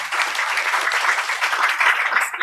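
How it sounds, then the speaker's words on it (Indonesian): Audience applause at an Indonesian religious book study gathering, a steady dense wash of clapping sustained through the whole stretch without pause. "Tepuk tangan."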